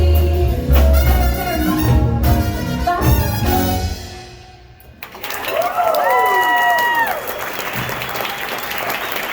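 Audience applause breaks out after a big band number, a dense wash of clapping and crowd noise that fades briefly, then returns while an amplified voice speaks over it.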